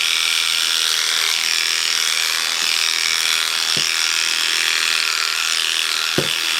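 An electric dog grooming clipper fitted with a number 7 blade trims a dog's chin, giving a loud, close, continuous buzzing drone that stays steady throughout, with a couple of faint knocks.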